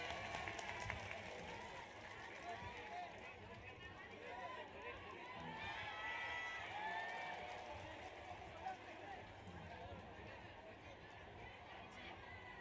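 An audience at an Indonesian stage show claps and cheers for a singer, a diffuse wash of applause and crowd chatter running steadily at moderate distance, with voices mixed in.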